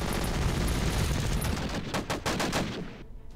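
Gunfire from units in the wartime strategy game Panzer Corps rattles in a loud dense fusillade, then breaks into several distinct sharp shots before cutting off, with no talk.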